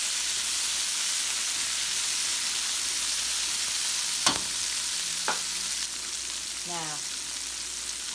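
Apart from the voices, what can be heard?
chicken sautéing in a pan for chicken cacciatore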